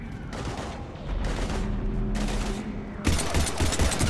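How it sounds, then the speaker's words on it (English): Rapid bursts of automatic gunfire in the video game Mass Effect 3, loud and close, coming in several sustained volleys with heavy low booms underneath. "I've got Lieutenant Vega with me, but we're taking heavy fire"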